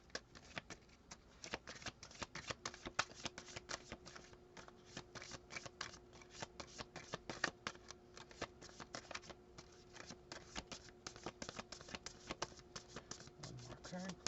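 Tarot cards shuffled by hand in a steady run of soft, rapid riffling flicks and slaps, close and fairly quiet, with brief pauses between bursts.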